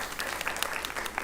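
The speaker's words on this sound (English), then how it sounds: "give yourselves a round of applause" Attendees at a school board business meeting give a short round of applause, a soft, even patter of many hands clapping at a moderate distance, brief and without voices over it.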